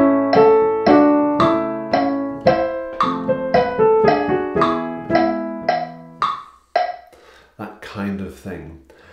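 Anonymous Coranto from the Fitzwilliam Virginal Book played on a keyboard at a lively tempo near 112 beats per minute, with bright plucked notes in a steady rhythm that ring out close and clear before the phrase settles and dies away.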